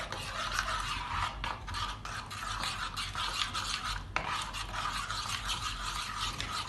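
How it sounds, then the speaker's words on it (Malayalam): Eggs are mixed in a bowl for an oats omelette, making a continuous close rubbing, scraping rasp with small uneven bumps and no talk. "അപ്പം ഇതൊന്ന് നന്നായിട്ട് മിക്സ് ചെയ്ത് കൊടുക്കുക ഇതിനകത്തോട്ട്"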